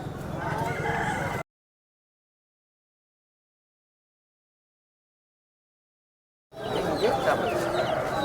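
Chickens cluck and squawk amid voices at Gokavaram poultry market, then a long stretch of total silence before the same busy poultry noise returns.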